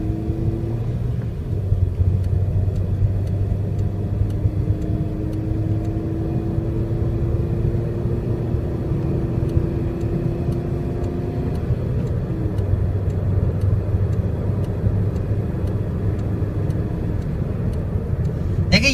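A car cruising at 80 km/h in fifth gear produces a steady low engine and road rumble with a faint tonal whine, continuous and fairly loud throughout.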